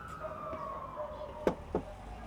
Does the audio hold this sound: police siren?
yes